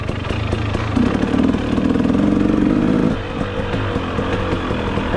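A freshly rebuilt 250 motorcycle being ridden close by, its engine note rising in a loud revving surge before settling back to a steady running drone.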